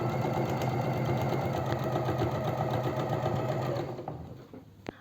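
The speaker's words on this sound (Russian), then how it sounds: "И так строчим до конца." Sewing machine stitching a seam on a simple four-panel elastic-waist skirt, a steady close mechanical whirring hum that slows and stops near the end.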